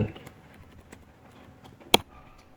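Faint clicks of typing on a computer keyboard, a few scattered keystrokes and one sharper tap near the end, heard close in a quiet room.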